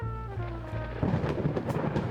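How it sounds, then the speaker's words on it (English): Rain and thunder in Coffee Talk 2: a steady hum gives way to a crackling rumble of thunder over a patter of rain, moderately loud and alone. "I better go before the rain gets worse."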